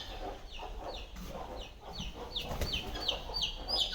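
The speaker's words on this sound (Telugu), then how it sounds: "ఇట్లా కడక్నాథ్ కోళ్ళు ఉన్నాయి, నాటుకోళ్ళు ఉన్నాయి," Kadaknath, native and Aseel chickens on a dairy farm cluck and chatter in overlapping bursts, a lively flock nearby with a few sharper squawks.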